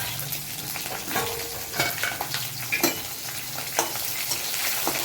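Dried red chillies fry in a pan for lemon rice pulihora, a soft continuous sizzle punctuated by scraping stirs and light utensil clinks against the pan, close and without talk.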